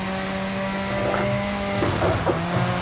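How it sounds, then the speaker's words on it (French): A rally car in the video game EA WRC24 drifts through a Monte-Carlo stage, its engine droning loudly while tires squeal and skid in bursts over the last second or so. "On s'amuse comme on peut, on va faire un petit peu de drift, hein. Un peu de glissade là."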